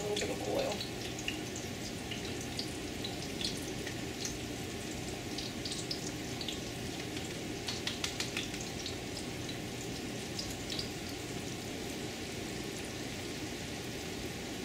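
Gar fish meatballs fry in hot oil with a steady, dense sizzle and crackle that holds evenly throughout, a voice talking quietly over it.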